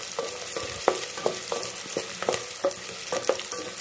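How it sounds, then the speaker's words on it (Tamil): Onions sautéing in oil after fried fenugreek seeds for a Kerala sardine curry, a continuous sizzle broken by regular scraping and stirring strokes against the pan. "வெந்தயம் நல்லா வறுத்தாச்சு. இப்போ வந்து வெங்காயம் போடுறேன்."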